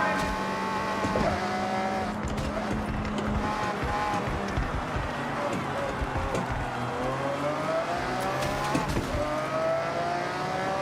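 Racing car engines whine and rev continuously in Forza Horizon 6, rising and falling in pitch as several cars accelerate and shift, with occasional tire noise mixed in.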